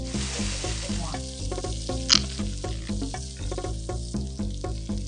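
A salami burger fries in a pan, giving a steady, close sizzle with a rhythmic bubbling crackle throughout and one brief sharp pop near the middle.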